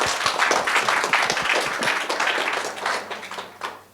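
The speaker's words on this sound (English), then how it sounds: "one more round of applause." Audience applause following a talk at a consciousness science conference, a dense wash of many hands clapping that stays steady, then thins and tapers toward the end.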